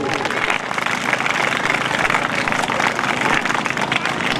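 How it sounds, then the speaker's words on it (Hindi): Loud, continuous clapping from a crowd at an Independence Day celebration, applauding the staff, a dense unbroken roar of hands throughout. "मैं तमाम दोस्तों से रिक्वेस्ट करूंगा कि वो जोरदार तालियां बजाएं सर बरकत और उनके स्टाफ के लिए"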